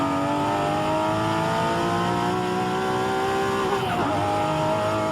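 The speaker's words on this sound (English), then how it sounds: "I've fully tuned the stock engine now. It makes about 580 horses. And it just sounds amazing." A fully tuned stock engine making about 580 horsepower, driven in Forza Horizon 5, sounds as a steady, loud engine drone that climbs in pitch through the gears. Near the end comes a quick shift or tire squeal, with no talk.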